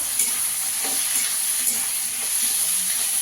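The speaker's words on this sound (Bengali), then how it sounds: "দুটো শুকনো লঙ্কা দিয়ে দেবো।" Dried red chillies and potato sizzle and hiss in hot oil for ghugni, a continuous close crackle with stirring scrapes breaking through.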